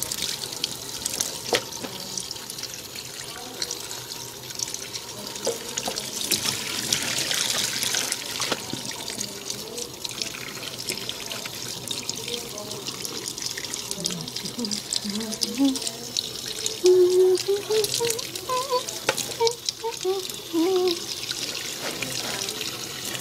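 Hot water runs and trickles from a tap while a felted wool scarf is rinsed, with splashing and dripping throughout and some sloshing near the end.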